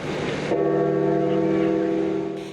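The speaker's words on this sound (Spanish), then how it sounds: "el anuncio de la muerte del Papa Francisco, todas las iglesias de Roma repicaron sus campanas en señal de luto" A sustained, resonant church bell tone with rich overtones, tolling in mourning in Rome, hums and rings out steadily, fading slightly at the end.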